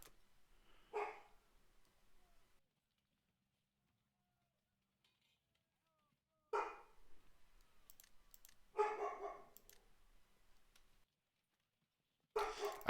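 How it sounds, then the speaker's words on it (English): A dog barks in several short bursts spread across the stretch, faint and somewhat distant in the background, with quiet gaps between. "my dog is barking in the background"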